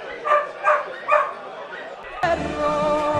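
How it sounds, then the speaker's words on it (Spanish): Dogs at a hunting dog fair featuring podencos, with three close, rhythmic bow-wow barks followed by a busier stretch of mixed barking and crowd noise. "Hay muchos perros de todo tipo, ¿eh?"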